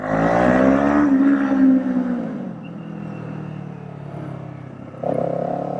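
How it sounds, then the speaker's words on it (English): A Kawasaki Eliminator motorcycle with a Kaufman exhaust roars loudly as the revs climb while accelerating, then the tone drops and settles into a lower rumble before rising again near the end. "I do not hate the sound of this Kaufman's exhaust. That is a pleasant sound."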